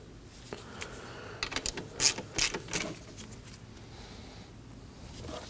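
A ratchet wrench clicks in a quick run of ratcheting strokes while the drive belt tensioner is tightened on a 2003-2006 Subaru Baja engine, close and moderately loud, then fades to quiet shop background.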